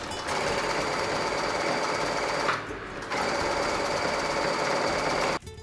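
Sewing machine stitching the center line of a fabric face mask, a loud steady mechanical whir that pauses briefly midway, resumes, and cuts off near the end.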